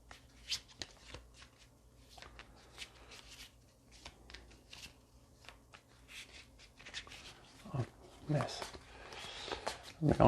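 Playing cards being shuffled by hand, with irregular riffles and rustles spread through the clip and louder riffles toward the end, while someone talks over them.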